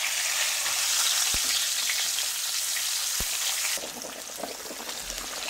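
Roast pork belly dropped skin-side down into hot oil in a pan fries with a steady, dense sizzle throughout, two brief low knocks near the start, and the crackle easing slightly in the second half.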